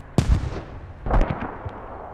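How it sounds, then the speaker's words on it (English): A grenade blast in a competitive squad shooter match: two sharp booming explosions about a second apart, loud and punchy, each with a short rumbling tail. "Skull Splitter should hear him throwing that nade."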